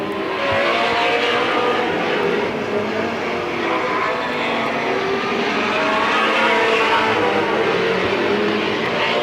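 Race cars roar around Midvale Speedway at a 1995 fall race, a loud, continuous blend of engines at full throttle with overlapping passes and no voices.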